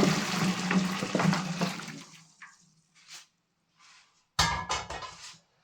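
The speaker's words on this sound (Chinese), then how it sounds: "继续往锅中加水" Water pours and splashes into a cooking pot in a kitchen, a gushing run for about two seconds, then a few short pours and clinks of the pot.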